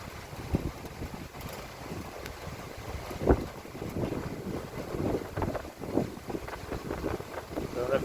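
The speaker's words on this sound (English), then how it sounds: "So I don't know if you can hear how the wind is singing, like it whistling" Strong wind gusts outdoors on a rainy morning, a rough, rushing roar that swells and fades in uneven surges, buffeting close to the microphone.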